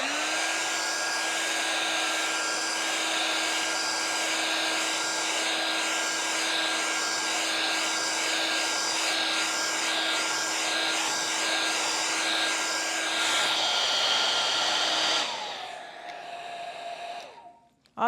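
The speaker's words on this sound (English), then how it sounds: "I don't know whoever thought up hair dryers, but I sure do like them" A hair dryer blows steadily for about fifteen seconds, loud and close with a constant whine, then cuts off and winds down into quiet.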